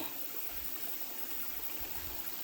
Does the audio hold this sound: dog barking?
no